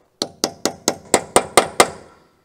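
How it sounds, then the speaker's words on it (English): Hammer blows on a punch driving a MINI Cooper R50 axle nut, eight sharp metallic strikes at a quick, even pace, close and loud with short ringing decay, no talk. "I'm gonna try a punch to see if we can hammer it out again"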